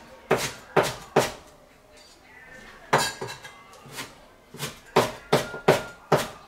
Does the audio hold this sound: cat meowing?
no